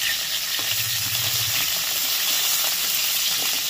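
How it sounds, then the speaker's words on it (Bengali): Cauliflower florets fry in hot oil in a pan, a loud, continuous close sizzle with a brief low hum near the start. "ফুলকপিগুলোকে ভালো করে ভেজে নেবো।"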